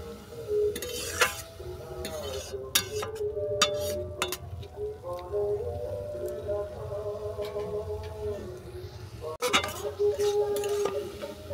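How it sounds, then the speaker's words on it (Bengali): Chopped banana stem fries and is stirred in a pan until its water cooks off, giving soft sizzling under irregular scraping and clacking of a spatula, with a sharp knock near the end. "থোড়ের জলটা শুকনো হওয়া পর্যন্ত এটাকে ভেজে নেব"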